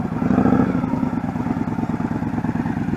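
A motorcycle engine idles and putters with a steady low rumble during a slow-speed riding lesson, fairly loud and close, with no talk over it.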